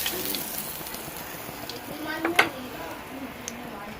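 Leftover vegetables sauté in a pan with a soft, continuous sizzle, broken by a few sharp ticks and scrapes, while a voice talks intermittently.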